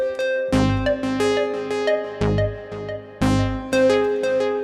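Synth bass on an Elektron Syntakt in a minimal Berlin School sequence, with repeating low notes under plucky tones, clear and moderately loud with no voices.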